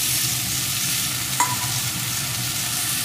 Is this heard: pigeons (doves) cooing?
no